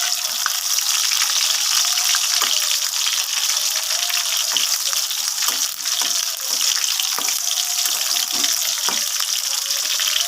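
Pointed gourd and prawns frying in a pan, a loud, steady, close hiss of sizzling oil that runs unbroken throughout, with faint clicks scattered through it and no talk.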